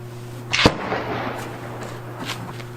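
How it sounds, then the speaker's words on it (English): A single sharp, loud report from a neighbor's large-caliber rifle during target practice, followed by a rolling echo and a fainter second crack later on, heard outdoors over a steady low electrical hum. "Yeah, that's a big gun. That's not a 22 or a 17."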